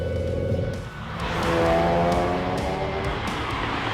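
Hot hatchback engine and exhaust from a 2018 manual-gearbox road test, revving up loudly with a rising, steady drone that swells mid-clip and holds strong throughout.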